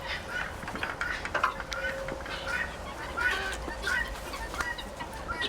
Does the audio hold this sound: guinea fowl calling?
yes